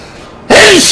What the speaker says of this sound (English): Hell of a sneeze.